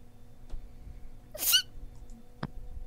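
A single sharp sneeze bursts out in the middle of a quiet room, followed by a short faint vocal sound; no one speaks.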